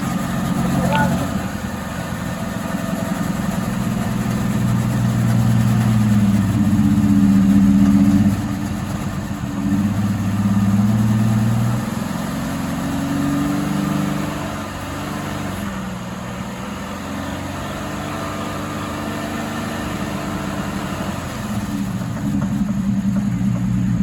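A 2003 Chevy Impala with a 3.4 engine idles while Seafoam cleaner runs through it, after a spark plug change, giving a steady mid-pitched engine hum with slight surges in revs. People talk over it now and then.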